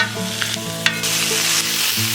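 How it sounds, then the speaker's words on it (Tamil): Chopped tomatoes frying with onions in a pan in a village kitchen, a continuous loud sizzle with a spatula scraping and stirring through it, close up and without talk. "கட் பண்ணி வச்சுருக்கிறேன் தக்காளி போட்டுக்கிறேன்."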